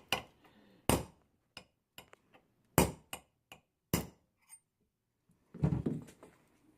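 A hammer taps a steel punch against a handgun's front sight post, a series of about ten sharp metallic strikes at irregular intervals, some loud and some lighter, followed by a brief scuffing clatter.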